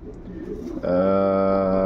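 A show pigeon held in a breeder's hands coos once after a short, faint rustle, giving a close, loud, sustained throaty call that holds steady to the end.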